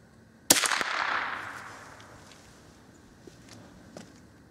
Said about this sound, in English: Now we're going to shoot the same loading in the 22 short high velocity hollow point Super X.